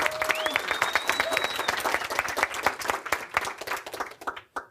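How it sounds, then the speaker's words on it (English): An audience at a hypnotherapy business event breaks into loud, dense applause. Many hands clap rapidly and close by, then the clapping thins and fades out near the end. "give her a round of applause"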